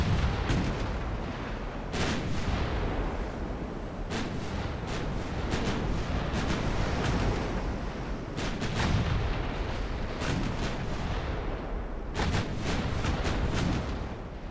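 Heavy battleship guns boom again and again in the naval video game Ultimate Admiral: Dreadnoughts, sharp loud blasts spaced irregularly over a constant rumbling bed of sea and engine noise, with no voices.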